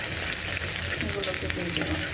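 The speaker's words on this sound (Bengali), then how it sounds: "এক টুকরা দারচিনি দিয়ে দেব। এটাকে একটু ভেজে নিয়ে" A piece of cinnamon stick fries in hot oil in a pan while cooking potol dolma, giving a steady, even sizzle that runs unbroken throughout at moderate level.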